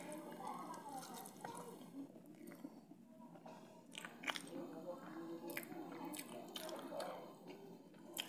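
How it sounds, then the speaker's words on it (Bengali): Wet, close chewing and smacking of someone eating fish curry, soft and steady throughout with small crunchy bites and slurpy sounds. "তো খাওয়া শুরু করি বন্ধুরা"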